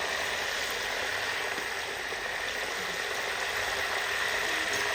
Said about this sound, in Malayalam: മഞ്ഞളും ഉപ്പിട്ട വെള്ളമാണ് കേട്ടോ ഈ ഒഴിക്കുന്നത്.